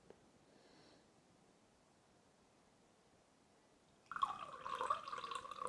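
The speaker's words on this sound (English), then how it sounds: "let's see how much head you get pouring out of my can" Beer pours from a can into a glass, a quiet lead-in giving way to a sudden, steady splashing, gurgling stream that fizzes as it fills.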